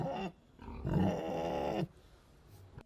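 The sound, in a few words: pigs grunting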